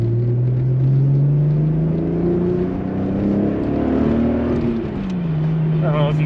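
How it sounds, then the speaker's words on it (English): A built VR6 engine in a VW Corrado, with Schimmel head and 268 cams, hums loudly from inside the car, pitch climbing steadily as it accelerates, then easing off briefly before holding again; a voice talks faintly underneath. "the VR6 just in general just has such a great sound to it"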